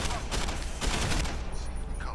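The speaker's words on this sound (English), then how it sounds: "I'm gonna just shoot from behind cover" A dense, loud stream of gunshots from a firefight in Deus Ex: Human Revolution, fired from behind cover. The shots blend into a continuous rattling barrage that eases slightly toward the end.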